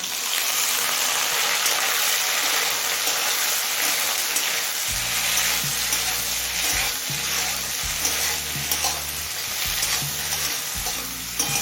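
Prawn heads sizzle loudly in hot oil with chili, garlic and black cumin for a taro-leaf mash, a steady bright hiss joined midway by low rhythmic scraping of a spatula stirring the pan, close and without talk.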